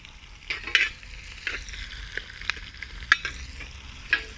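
Onion, ginger and garlic fry in a pan for a Kerala-style fish head curry, with a steady crackling sizzle broken by several sharp stirring scrapes and clinks.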